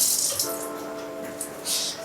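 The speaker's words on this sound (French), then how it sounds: "Donc on le passe un peu sous l'eau" Parsley rinsed under a running kitchen tap: steady hissing water stream close by, with a brief hum underneath and small splashing changes as the leaves move through the flow.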